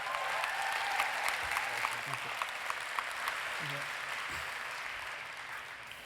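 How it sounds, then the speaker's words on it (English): An audience gives a sustained round of applause for a speaker being introduced at a talk, a dense, even wash of clapping from a crowd at moderate distance that lasts the whole time. "give a huge round of applause for Emmanuel"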